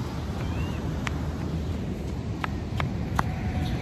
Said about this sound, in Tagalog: ayan yung lakas ng alon